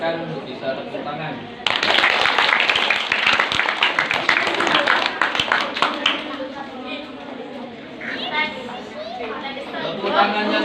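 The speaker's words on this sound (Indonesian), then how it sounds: "Silakan bisa tepuk tangan." A crowd of children and adults at an elementary school Isra' Mi'raj ceremony claps for an adhan competition winner, a burst of brisk applause that fades into chatter and voices.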